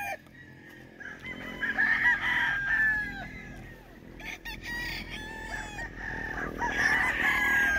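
Roosters crow repeatedly at a gamefowl farm, two or three long calls standing out over a dense outdoor din of other crowing and clucking birds, some near and some farther off.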